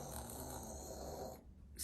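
A single long snore, rough and low, sustained before cutting off, followed by a brief burst of noise at the end.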